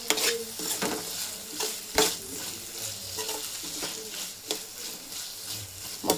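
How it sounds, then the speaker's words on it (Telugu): Bottle gourd curry simmering in a pan and stirred with a spoon, steady sizzle and frying hiss broken by sharp scrapes and clinks of the utensil against the pan at irregular intervals. "ఈ లోపు కర్రీ మగ్గుతూ ఉంటుంది"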